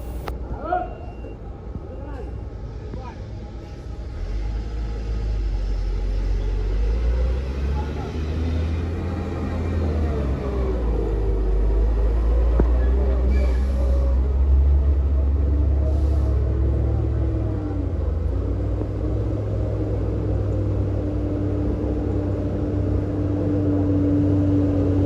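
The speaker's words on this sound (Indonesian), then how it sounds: "Namun sopirnya memaksakan untuk terus mundur supaya bagian belakangnya itu lepas dari beton yang bikin dia tersangkut." A bus stuck on concrete on the Sitinjau Lauik road reverses hard, its engine giving a loud, steady low rumble that holds throughout, with faint voices underneath.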